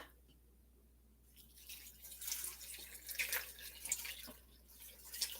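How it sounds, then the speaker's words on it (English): Water runs steadily into a pot, a broad hissing pour that starts after a quiet moment and continues with small splashy fluctuations. "And then 4 cups of water."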